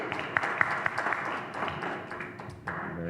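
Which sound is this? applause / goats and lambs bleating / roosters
applause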